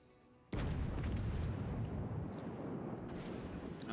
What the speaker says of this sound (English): Our friendly battleships putting some rounds on him.